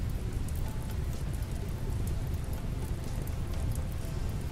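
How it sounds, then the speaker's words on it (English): Rain falling in the colony-building game Rimworld, a steady, even hiss of rainfall with a low rumbling undertone, constant and unbroken throughout. "luckily it seems to be raining"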